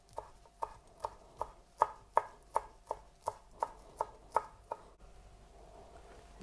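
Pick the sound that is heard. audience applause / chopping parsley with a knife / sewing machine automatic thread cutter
chopping parsley with a knife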